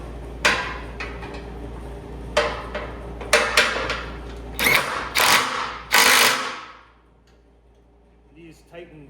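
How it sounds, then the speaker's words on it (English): Ratchet clicks and tool clanks while bolts are tightened on a C4 front suspension assembly for a 1957 Chevy truck restomod, several loud bursts of ratcheting in the first six seconds, then near quiet, with speech at times. "Now we'll just tighten those up."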